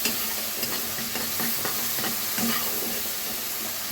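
Small dried shrimp frying in a pan, a continuous close sizzle under repeated scraping stirs of the spatula.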